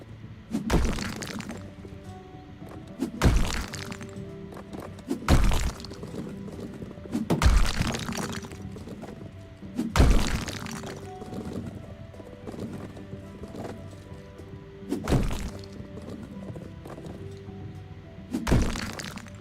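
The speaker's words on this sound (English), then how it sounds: "Alrighty, the wall is destroyed." Repeated heavy smashing thuds from a wall being knocked down in the video game House Flipper, seven or eight loud, close impacts spaced a couple of seconds apart over a low game ambience, with no talking.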